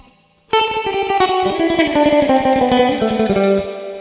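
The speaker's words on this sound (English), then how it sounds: "the other technique you can use is called tremolo picking, and it goes like this" Loud surf-style electric guitar with heavy effects, notes rapidly tremolo picked, sliding down in pitch before stopping abruptly.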